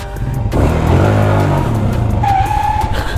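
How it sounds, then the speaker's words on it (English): A 23-year-old Suzuki Fiero motorcycle, restored to stock, is kick-started and its single engine settles into a loud, steady run nearby with a brief pitch rise, and no talking. "So now let's start this. One kick, start"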